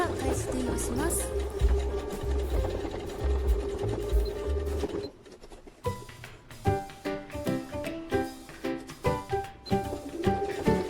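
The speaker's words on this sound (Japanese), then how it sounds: "取っ手の内側を合わせて縫っていきます。" A sewing machine stitches the handles of a fabric basket, first in a fast continuous run, then after a brief pause in slower bursts of rapid clicking needle strokes, close by, with faint bird cooing behind.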